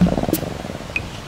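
A Mammuta creature in the video game Pikmin 4 purrs in a soft, low, rhythmic rumble heard up close for a moment, with a couple of faint game chimes over it.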